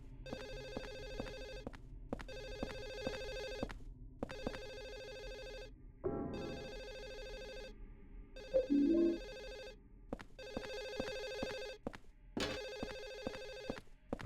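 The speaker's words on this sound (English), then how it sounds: "It sounds like maybe it's the phone in this apartment that's going off." An old telephone rings inside an apartment in the horror game Silent Hill 4, sounding in steady, evenly spaced bursts with short gaps between them, briefly interrupted by a low muffled thump.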